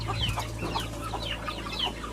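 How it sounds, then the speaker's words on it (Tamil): Guinea fowl clucking close by, a run of short, sharp, repeated calls over a steady low hum, with no talking. "பெரிய கிண்ணி கோழிலாம் உள்ளார தான் இருக்குது"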